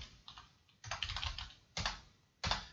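A computer keyboard is typed on at close range in short bursts of clicks with small gaps between them, quiet and with no voices, while a folder name is entered.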